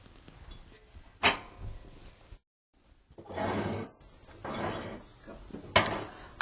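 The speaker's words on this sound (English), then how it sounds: "I've just used it to rake the ashes into the ash pan" Rake scraping wood stove ashes into the ash pan: a few close metallic scrapes and clunks in separate bursts, with short silent gaps between them, no talk.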